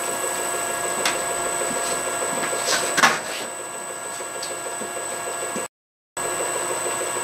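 A small mist pump runs steadily, driving four tiny 0.08 mm orifice nozzles, giving a constant whirring hum with a brief sharper hiss midway and a short dropout near the end.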